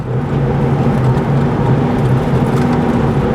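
A 2001 Dodge Dakota 4.7L truck engine while driving, a loud steady low drone and hum close up with road roar, no talking over it.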